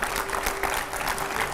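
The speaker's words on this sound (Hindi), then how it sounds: "जोरदार तालियों से स्वागत करिए।" Studio audience clapping loudly to welcome yoga guru Swami Ramdev on a Hindi news panel set, a short burst of dense, even applause with a faint steady hum underneath.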